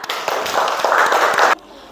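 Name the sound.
pupils clapping in a classroom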